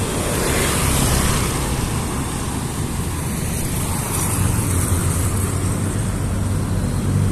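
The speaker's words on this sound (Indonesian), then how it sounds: "Para mobil kencang-kencang semua, teman-teman bisa lihat itu." A continuous roadside roar of fast-moving cars and vehicles on a busy road at CPI Makassar, loud and unbroken with low engine rumble and no speech.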